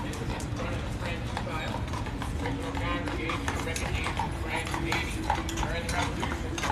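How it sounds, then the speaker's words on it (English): A horse-drawn tour carriage passes along a Savannah street, hooves clip-clopping in a steady, fairly close rhythm over a bed of street ambience, with someone talking at intervals. "Here comes a horse tour."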